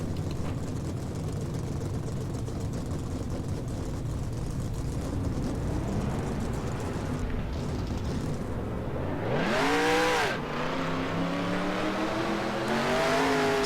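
Race car engines in the NASCAR Racing 2003 video game fire up together at Daytona as a dense, loud roar, then one engine revs hard in rising and falling sweeps.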